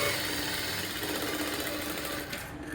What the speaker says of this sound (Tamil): போட்டுட்டு இப்படி இது மேலே ஒரு தையல் போடுறீங்க.